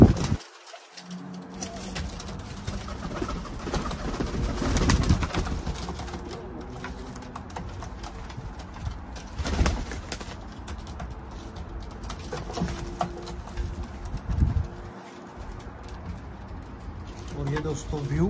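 Teddy pigeons coo in a loft in London, low soft calls repeating through the clip alongside scattered bird sounds, with faint background noise and occasional clicks.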